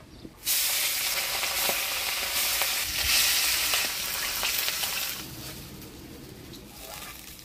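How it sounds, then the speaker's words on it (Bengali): Bacha fish sizzling loudly as it fries in hot oil in a village-style kitchen, with a steady crackling hiss starting after a short quiet, scattered pops, and a fade toward the end. "এবার মাছটা ভাজি নেব।"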